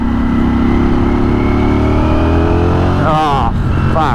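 V4 motorcycle engine pulling uphill in fourth gear at half throttle while crossing the Roseville Bridge in Sydney, a loud, steady drone with rising tone, wind rush and talk breaking in near the end.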